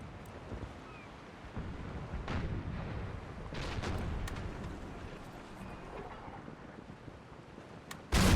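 In the Empire Total War naval battle, ship cannons boom out in scattered heavy blasts over rumbling wind and sea noise, with a sharp loud shot at the very end.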